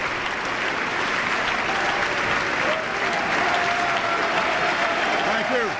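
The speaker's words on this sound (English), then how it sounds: "What are we clapping about?" Loud, dense applause from a big audience in the chamber of Congress, continuous and even for several seconds, with faint voices mixed into the clapping.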